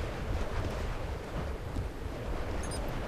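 Steady broadband wind roars through the Crysis game world, a constant loud rushing that fills the whole moment without breaks or talk.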